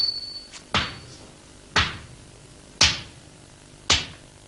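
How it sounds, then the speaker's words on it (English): A hammer beats folded steel into a Japanese sword blade: four sharp, heavy metallic blows about a second apart, each ringing briefly before fading, close and loud over a faint background. "After the folding, the lump is beaten into its final shape."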